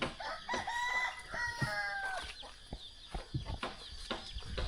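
Chickens and young chicks in a rural Lao village without electricity, with clucking and a clear rooster-like call rising out of a busy, close mix of bird noises that carries on throughout.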